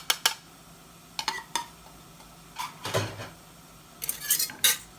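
Butter and flour mixed in a pan for béchamel, heard as sharp metal spoon clinks and scrapes against the pan in irregular bursts, close and fairly quiet, with no speech.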